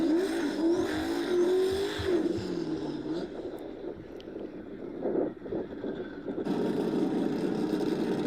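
A Mustang race car launches hard down a no-prep drag strip, its engine roaring loud with rising pitch and a brief tire squeal before the note fades and another burst follows near the end.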